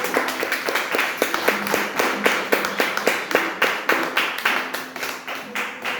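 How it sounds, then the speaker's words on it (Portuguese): A church congregation claps together in a steady, rhythmic beat, loud and close, with a sung tone held underneath at times. "aplauda esse Deus"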